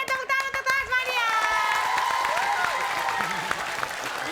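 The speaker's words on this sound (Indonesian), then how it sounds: "Oke, tepuk tangan untuk Tasmania" Studio audience applause on an Indonesian comedy show builds from a host's voice into lively, sustained clapping mixed with crowd cheering, while talking and laughter continue over it.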